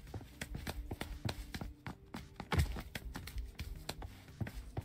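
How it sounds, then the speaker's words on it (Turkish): Footsteps run outside in PUBG Lite, a quick, quiet series of steps that repeats at an even pace with soft scuffs and clicks, while a voice briefly murmurs partway through. "Ayak sesi dışarı."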